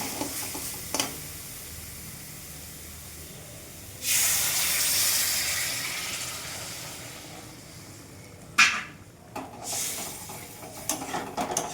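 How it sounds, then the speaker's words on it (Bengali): Water is poured into masala frying in a pan for papda fish curry, setting off a sudden loud hiss and sizzle that slowly fades, followed by stirring scrapes and further bursts of sizzling. "এখন এটাতে জল দিয়ে দেবো।"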